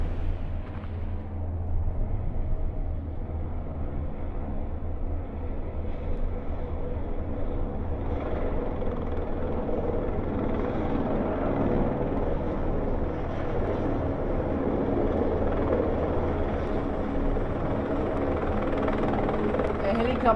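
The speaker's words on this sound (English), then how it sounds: "A helicopter must be nearby." A helicopter drones steadily nearby over the Zermatt mountain area near Furi, a continuous low rotor rumble that holds for the whole stretch.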